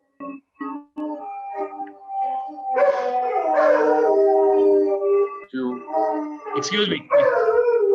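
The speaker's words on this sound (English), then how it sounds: "These are my dogs, sorry." Several dogs howling and yipping indoors, drawn-out rising and falling howls with short whimpers and yips, close and fairly loud, with someone briefly speaking at the start.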